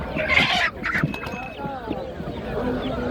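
Chickens and Australorp chicks cluck at a busy poultry market, with overlapping clucks and squawks near and far under a steady crowd murmur, while people talk nearby.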